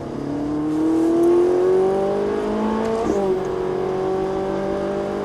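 Ferrari 458 accelerating on a race track, engine note climbing steadily in pitch, dipping briefly at a gear change, then pulling again, loud and close with no voices.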